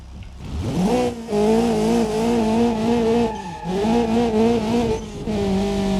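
A Hirochi Sunburst RS320 with 320 brake horsepower, driven in BeamNG.Drive, revs loudly and steadily, its engine pitch rising and falling through gear changes with brief dips between pulls.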